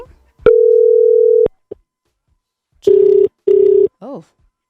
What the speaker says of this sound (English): the phone was ringing for so long